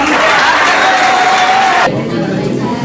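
An audience at a Hindi comedy poetry gathering breaks into sustained applause and cheering to welcome the poet Anil Bedhadak, a dense wash of clapping that drops off slightly near the end.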